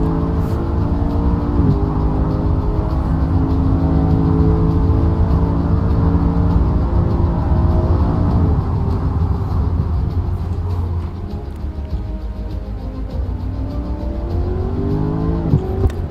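DTM race cars in a racing video game scream loudly and continuously, engines revving high with gear-shift dips and rises, alone without talk.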